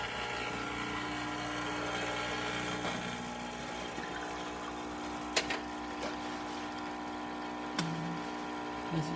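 A Rancilio espresso machine pulls a test shot after a full service and tune-up, giving a steady low pump hum with a few brief clicks and knocks near the end.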